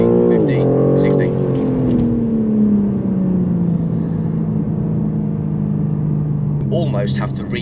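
BMW M4 Competition (G82) accelerating hard from 0 to 60 on a quiet road, a loud close engine note rising through the gears with a shift around the start, then a steady high drone, with a voice talking over it throughout.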